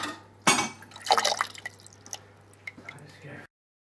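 Water drips into a collecting bucket resting on load cells in a rain gauge calibration rig, with a few splashy impacts and scattered smaller drips over a steady low hum, fairly close.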